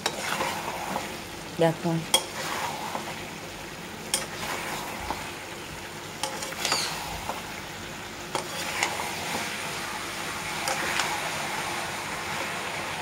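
Chicken pieces frying in a spiced pan for spicy chili chicken, stirred with repeated scraping and clattering strokes over a steady sizzle, close and fairly loud, with one brief spoken word.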